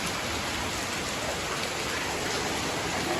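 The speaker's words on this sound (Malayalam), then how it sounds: "സൂപ്പറായിട്ട് മഴ പെയ്തുകൊണ്ടിരിക്കുന്നു" Steady, dense rain falling close by, a continuous hiss of drops with no voices.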